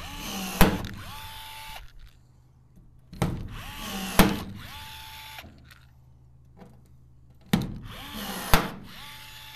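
A Milwaukee M12 cordless rivet gun sets pop rivets: short motor whirs, each ending in a sharp snap as the mandrel breaks, repeated several times close up with quiet gaps between.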